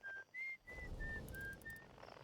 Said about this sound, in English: The whistling is coming from this one.